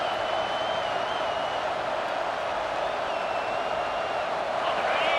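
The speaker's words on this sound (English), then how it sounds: "Listen to this crowd just shaking the girders of this place trying to help their defense." A packed stadium crowd at a college football game roars steadily, a dense, loud wash of cheering that holds level throughout while the home crowd urges on its defense.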